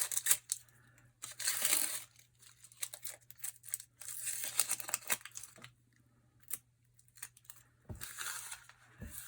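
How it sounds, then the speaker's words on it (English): Papery onion skin is peeled away by hand in bursts of dry crinkling and tearing, close and fairly quiet, with brief pauses between pulls over a faint low hum. "we're gonna peel all the peel off"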